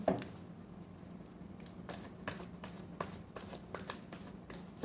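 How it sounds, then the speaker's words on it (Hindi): Tarot cards are shuffled by hand in a quiet room, a series of quick papery riffles and flicks in rapid bursts, close and fairly soft with no voices. "last shuffle"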